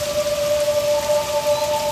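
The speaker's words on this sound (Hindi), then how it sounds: "बारिश हो रही है।" Steady rain falls in an even, continuous hiss with a faint tone running through it, and no one speaks.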